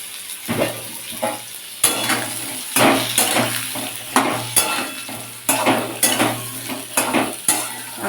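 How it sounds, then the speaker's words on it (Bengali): Diced potato fries in a pan of hot spices, its sizzle broken by repeated rhythmic stirring strokes and clinks of a utensil against the pan, loud and close with no voices. "আলুটাকে একটু ভেজে নেব"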